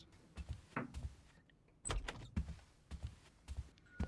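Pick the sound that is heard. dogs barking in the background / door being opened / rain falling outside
door being opened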